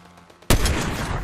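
Gunfire erupts during a video game shootout: a sudden loud burst of rapid shots starts abruptly after a quiet moment and keeps going as dense, continuous firing to the end.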